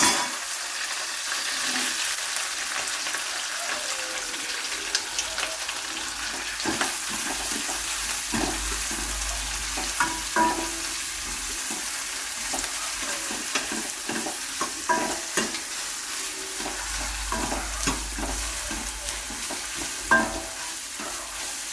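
Onions sauté in a pan with cinnamon, cloves, curry leaves, green chili and ginger, giving a continuous close sizzle broken by repeated spatula scrapes and stirring knocks, with no voices.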